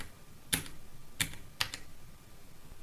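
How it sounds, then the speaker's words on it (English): Three sharp key presses on a computer keyboard's arrow keys, crisp and close, spaced unevenly over a few seconds against a quiet room background. "You can also use the arrow keys on your keyboard."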